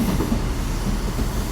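A Direct Rail Services class 68 diesel locomotive leads a train past on the Chiltern Main Line at Leamington Spa, a steady rumbling roll with a faint clatter of wheels heard close by, no talk.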